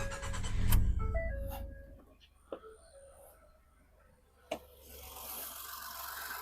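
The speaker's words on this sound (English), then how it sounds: "So let me start this thing up, and hopefully you can hear it." A 2012 Ford F150 with a 3.5L engine, checked for a coil-on-plug fault, starts with a brief loud low rumble. It then settles into a quiet, steady idle, with a couple of sharp clicks over it.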